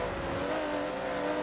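A Porsche GT3 race car in a racing video game, on the Indy GP circuit, brakes with a steady engine drone and a high tire squeal, loud and continuous.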